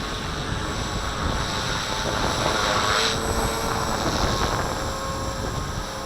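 A V450D01 RC helicopter hovers in high wind, its rotor and motor making a continuous, even whine and roar mixed with gusty wind noise throughout.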